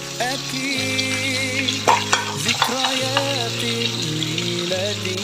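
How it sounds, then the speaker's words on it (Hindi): Crushed potato goes into hot oil and fries with a steady, close sizzle, broken by a few sharp clinks and stirring scrapes, with no voices. "अब इन सब को हम सीधा इस ऑयल में डाल देंगे।"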